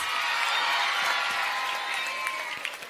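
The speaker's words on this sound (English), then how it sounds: "Let's all give applause!" Applause from a student audience at a stage event with dancing and push-ups, a dense steady clatter of many hands clapping throughout, with scattered cheers and voices mixed in.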